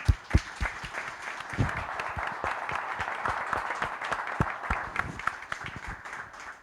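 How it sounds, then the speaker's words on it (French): Audience applause at the opening of an agriculture lab launch event, a steady wash of many hands clapping with a few sharp, close claps standing out, fairly even and moderately loud throughout. "avec vos applaudissements nourris"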